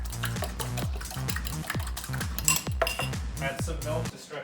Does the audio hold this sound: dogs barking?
no